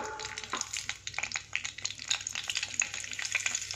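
Turmeric, salt and chili powder sizzle and crackle in hot oil on low heat for egg curry, close and fairly quiet, with a stirring clatter near the beginning.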